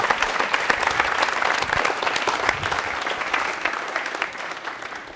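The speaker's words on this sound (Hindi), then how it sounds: "गौरव से इनके लिए ताली बजाइए भैया" A studio audience at a televised quiz show claps for a contestant who has just answered correctly, a steady, dense applause that holds at an even level for about five seconds with no voices over it.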